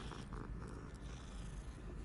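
A cat purrs in the video game Hogwarts Legacy, a soft continuous low rumble that is quiet and steady throughout, with no talking.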